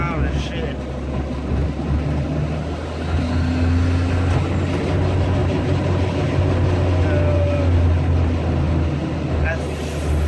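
Loud car engine with a boosted turbo after a wastegate spring change, heard from inside as a continuous heavy drone and rumble while driving, with a voice talking over it.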